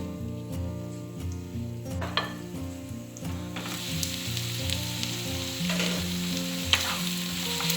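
Dried stingray stir-frying in oil sizzles steadily, with a spoon scraping and clinking against the pan in repeated strokes. Cookware knocks and rattles come through clearly, and no one speaks.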